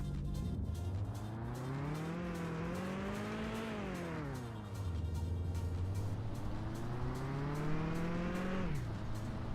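A car engine in the video game Mon Bazou revs up through rising pitch, drops sharply on a gear change, then climbs again in a second sustained acceleration, steady and close.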